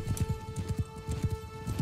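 Horse hooves gallop in the Mount & Blade video game, a steady rapid clip-clop rhythm of repeated hoof strikes, fairly faint, with a soft steady tone underneath.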